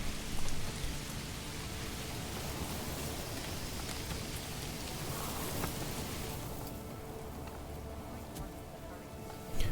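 Steady rain pours over a medieval town in the city-building game Manor Lords, a dense continuous hiss with low rumbling thunder beneath, holding at an even level throughout.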